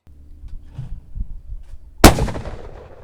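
Shotgun fired at a sporting clays shooting range outdoors: one loud, sharp blast with a fading echo, preceded by quiet low rumbling and handling noise.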